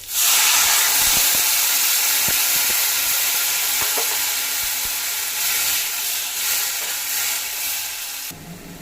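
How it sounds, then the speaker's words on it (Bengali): Water poured into a hot pan of masala-coated morola fish hits with a loud, bright steaming hiss that sizzles continuously for several seconds, with faint clicks underneath before the hiss drops off abruptly at the end. "এবার এতে আমি দিয়ে দেবো পরিমাণ মতো জল"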